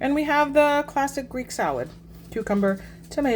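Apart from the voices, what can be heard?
None of the usual background noises is heard.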